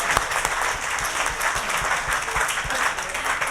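A dinner audience at a discussion event with the Tamil Nadu IT minister bursts into steady, lively applause, many hands clapping close together at a consistent, fairly loud level.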